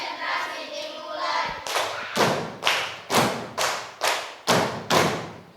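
A classroom group performs a concentration clap, tepuk konsentrasi, with a voice leading at first and then eight loud, evenly spaced unison claps ringing out one after another.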